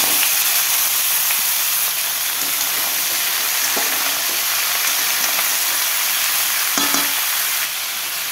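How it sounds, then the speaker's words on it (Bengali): Pumpkin pieces sizzle loudly in hot oil tempered with dried red chilli, bay leaf and cumin, a constant close hiss with occasional stirring clicks and scrapes. "ফোড়নে দিলাম শুকনো লঙ্কা, তেজপাতা আর জিরে। তারপর কুমড়োগুলো দিয়ে দিলাম।"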